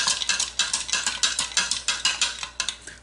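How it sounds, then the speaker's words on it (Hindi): A spoon stirring sugar into lukewarm water, clinking rhythmically against the bowl in quick, evenly spaced scrapes and taps, close and clear with no talk. "तो सबसे पहले जो चीनी है वो मैं नीम गर्म पानी में डाल दूंगी। इसे मिक्स करूंगी,"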